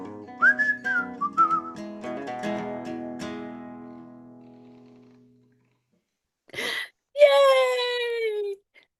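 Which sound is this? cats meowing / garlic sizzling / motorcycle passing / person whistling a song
person whistling a song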